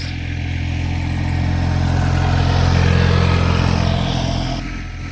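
A vehicle with a rough, tractor-like engine passing nearby, its loud low rumble swelling to a peak and then fading slightly as it moves away.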